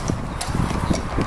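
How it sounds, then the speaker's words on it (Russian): Horse hooves clip-clopping in a steady, even rhythm of close knocks, with no voices over them. "Лошадь там."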